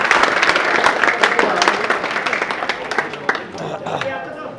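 Crowd at a prize-giving for pigeon-flying winners breaks into dense, lively clapping that gradually thins out, with a voice speaking over the applause throughout.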